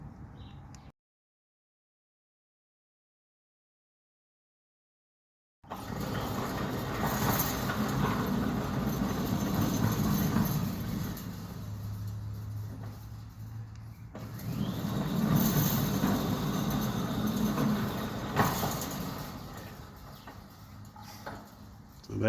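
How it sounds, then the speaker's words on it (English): A Centurion D6 Smart motor drives a modest sliding gate through its cycle at a residential property in Bromhof, Johannesburg, a steady low hum and rumble that runs evenly after a brief silence, with no laboring or vibration. "if you listen to the gate motor, there's no laboring of it. It's not bouncing up and down. It's not vibrating."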